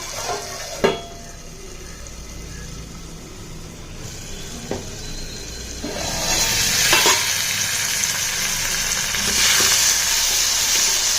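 Onions and tomatoes sauté in a pan for jackfruit seed kuzhambu, a soft sizzle that swells louder midway, broken by a few sharp clinks and scrapes of a spoon against the pan.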